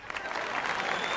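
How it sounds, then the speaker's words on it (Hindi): A crowd of people clapping hard at a live performance in a hall, a brief, dense, even burst of applause with no speech. "इसलिए प्लीज ताली जरा जोर से बजाइएगा।"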